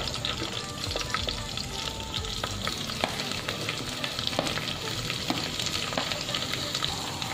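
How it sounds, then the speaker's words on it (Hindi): Mixed vegetables with grated garlic, ginger and green chilli fry on high flame for veg manchow soup, a dense, steady crackling sizzle punctuated by sharp spatula taps and scrapes against the pan, close and unbroken, with nobody speaking. "और सब्जियों को हम हाई फ्लेम पे फ्राई करेंगे 2 से 3 मिनट के लिए।"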